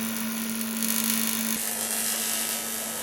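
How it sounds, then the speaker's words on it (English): A metal lathe about three metres long runs steadily, giving a continuous close whine with a high sustained hum and a bright cutting hiss that shifts partway through. "Quite a satisfying noise that, it sounds like he's doing a good job. It's what you call a lathe."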